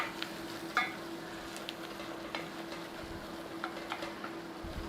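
Flour and a pinch of thyme cook in a pan for gravy with a soft, low sizzle. Occasional light scrapes and taps of stirring come through, faint and close, with a steady hum underneath.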